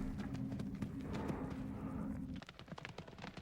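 Horse hooves pound the ground during a show jumping competition, a fast run of thuds under a steady hum, then quicker separate clip-clop strikes toward the end.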